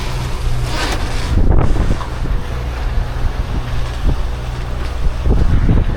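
Small fishing boat pitching through rough seas well above one foot, loud wind buffeting the microphone and heavy waves slapping and crashing against the hull in repeated bursts.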